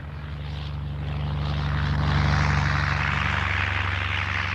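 Single-engine Breguet 14 propeller biplane droning steadily as it flies past, the engine swelling louder toward the middle and holding a buzzy, rumbling tone with no voices.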